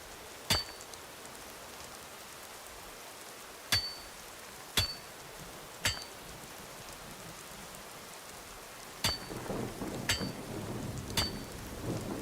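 Steady rain falls in a Skyrim game scene, a soft continuous hiss broken by several sharp, loud thunder cracks spaced a second or more apart, the rain swelling heavier toward the end.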